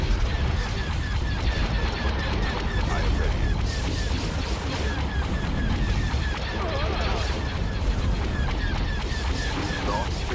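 Blaster and cannon fire rattle through a Star Wars space battle video game, a dense, continuous barrage of shots and booms with engine noise beneath, while people talk over the action.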